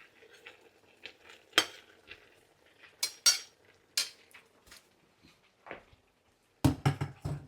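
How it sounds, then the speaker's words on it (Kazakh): A metal cooking pot of Tashkent plov, a two-kilogram batch, is handled and lifted, giving a scattered series of sharp metallic clanks and knocks close by, ending in a quick cluster of clatters. "Ыдысты аламыз."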